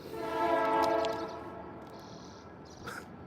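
A passing train sounds a long, steady horn blast, fairly loud at first and then fading, with crickets chirping faintly in the background outdoors.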